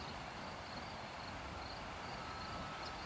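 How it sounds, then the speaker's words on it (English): Crickets chirp continuously through a dense, even wash of insect noise on a morning walk with low clouds, steady and moderately loud with no voices. "And all the crickets are chirping happily."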